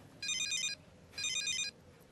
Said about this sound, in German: Dein Handy klingelt.